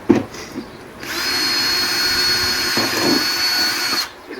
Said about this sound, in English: Drill a hole about where the top of the aquifer bottles are.